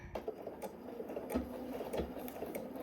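A sewing machine stitches a jacket lining seam at low level, a soft rhythmic mechanical chatter with faint periodic knocks, fairly quiet and without talk.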